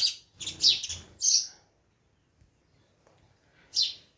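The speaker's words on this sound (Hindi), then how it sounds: "गुरैया देखिए जो शहरों में नहीं मिलती, हमारे गांव में भरमा रहती है।" Several quick, high sparrow chirps in a short burst, then a pause and one more chirp, fairly close in a quiet village setting in Uttarakhand.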